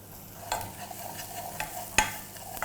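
Garlic and chopped red onion sautéing in oil in a pan: a soft, low sizzle with a few distinct stirring scrapes and clinks of the utensil.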